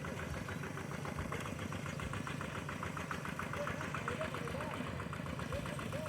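An old first-generation walk-behind tractor engine chugs steadily and continuously with a rhythmic knocking throb, moderately close, with no break in the sound, while ploughing a wet rice paddy.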